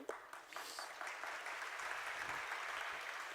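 An audience claps during a religious discourse in Shirpur, a soft, distant patter of many hands that swells slightly and holds steady to the end.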